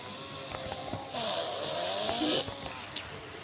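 A car engine rises and swells briefly as the vehicle turns around, moderately close, with a low rumble before and after the surge.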